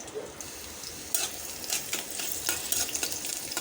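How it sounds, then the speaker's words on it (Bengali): Onions frying in hot oil in a kadai, a close crackling sizzle broken by scraping stirs and light metallic clinks from a spatula against the pan, with no voices. "পেঁয়াজটা মোটামুটি ভাজা হয়ে গেছে"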